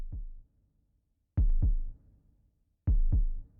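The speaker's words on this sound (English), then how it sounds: "I can hear it. My heartbeat." Three double-thump heartbeats in a video game set in a pet shop after dark, each lub-dub pair loud and close, separated by near silence, with no one talking.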